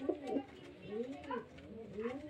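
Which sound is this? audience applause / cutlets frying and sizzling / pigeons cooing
pigeons cooing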